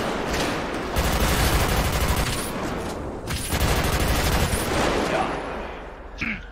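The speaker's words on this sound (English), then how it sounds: "Shots fired, shots fired." A rapid burst of gunshots during an attempted kidnapping of a police officer, heard as dense overlapping cracks in two loud waves with shouting voices mixed in.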